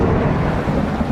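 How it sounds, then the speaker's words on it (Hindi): Heavy rain pours in a jungle, a dense, loud, continuous roar with a low rumble beneath, filling the whole brief moment without pause. "बारिश रुकने का नाम नहीं ले रही थी"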